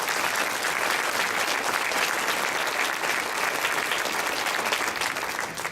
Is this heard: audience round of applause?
yes